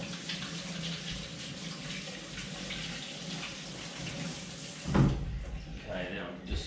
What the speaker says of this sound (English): quick rinse under the tap